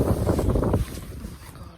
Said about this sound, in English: Starts to get windy.